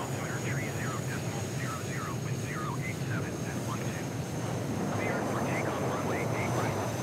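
Cessna Citation business jet in Microsoft Flight Simulator 2020 at Miami International Airport, a steady engine roar and whine filling the scene continuously, with faint chirping ambience layered over it.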